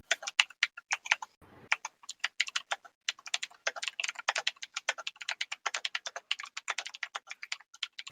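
Loud, fast typing on a computer keyboard at a party, close and crisp, in uneven bursts of sharp clicks that pause briefly once near the start and then continue almost without a break.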